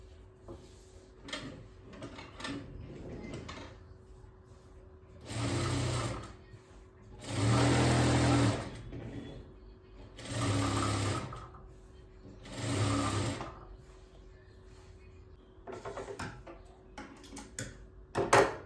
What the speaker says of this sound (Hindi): तो अब मैं एक बार इसके सीधे पे भी सिलाई लगाऊंगी।